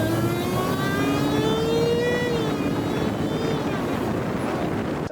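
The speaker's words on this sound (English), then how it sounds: "The whine when you step on the gas." A supercharged V8 in a 2023 Dodge Challenger Hellcat SRT Widebody Jailbreak accelerates, its rising whine and engine tones sweeping upward in steady, loud layers that hold throughout.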